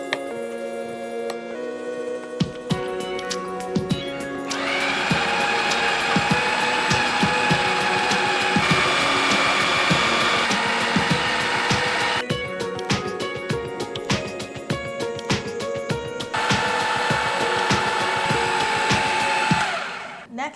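An electric mixer blending blocks of room-temperature cream cheese for a pumpkin spice cheesecake, a steady close whirring drone that cuts out and restarts partway through, with faint clicks and no talk.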